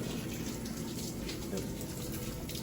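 Steady broadband rush of water spraying from the test hoses on an opened Wilkins 950XL double check valve, a continuous close hiss like a running faucet with no breaks.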